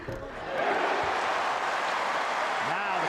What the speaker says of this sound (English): Now the crowd really feeling it.